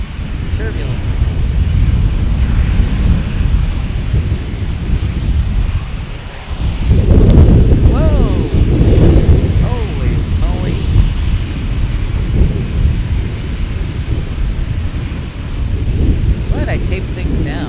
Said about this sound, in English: wake turbulence.